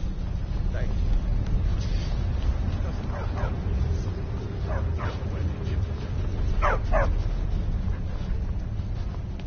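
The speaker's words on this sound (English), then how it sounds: "Don't mind the dogs. They get anxious when they haven't had dinner." Dogs in the Skyrim video game bark and whimper anxiously in short yips scattered through the clip, over a steady low game ambience and background music.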